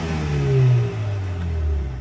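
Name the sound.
Mercedes CLA35 Milltek exhaust revving, valves closed in comfort mode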